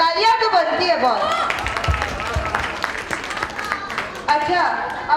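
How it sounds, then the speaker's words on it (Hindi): Clapping from a gathered crowd at a 25th wedding anniversary party, steady applause under a voice talking over it, loud and close, swelling briefly near the end. "तालियां तो बनती है बहुत"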